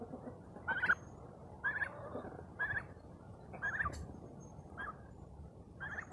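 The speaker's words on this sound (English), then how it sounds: "These are our new baby turkeys that I showed whenever they were really young." Young turkeys give a series of about six short, high chirping gobble calls spaced roughly a second apart. The calls are fairly close and stand over quiet background noise.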